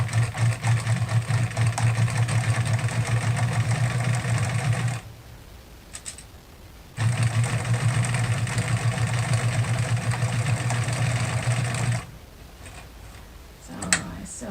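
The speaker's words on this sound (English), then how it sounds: "sew down the binding right here along this edge" A sewing machine stitches binding down along the edge of a layered fabric hospital mask in loud, steady runs of motor whir and needle chatter, pausing twice with only quiet handling between bursts.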